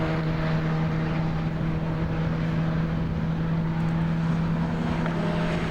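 Several racing cars battle for position further back in a BARC race, their engines a steady, continuous drone with a strong low hum throughout, fairly distant and without any talk.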